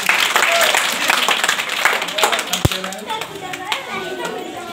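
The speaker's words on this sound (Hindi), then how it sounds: "ताली बजाएं सब बच्चे।" Children clapping at a school annual function in Amroha, with a dense patter of claps up front, a single sharp clap standing out, then scattered claps fading under continuing voices and crowd chatter.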